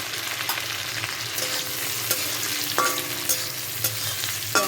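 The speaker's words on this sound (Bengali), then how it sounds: "এর মধ্যে আমি কেটে রাখা পেঁয়াজটা দিয়ে দিব" Chopped onions frying in a pan, a steady close sizzle with a few sharp scrapes of stirring scattered through, no voices.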